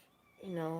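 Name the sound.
newborn kittens crying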